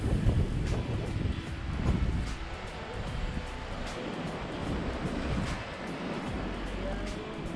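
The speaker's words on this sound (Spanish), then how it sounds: "Para quedarse horas mirando cómo rompen las olas acá con las piedras." Ocean waves break against rocks at Barra da Lagoa beach near Florianópolis, Brazil, a continuous rough wash of surf close by with wind buffeting the microphone.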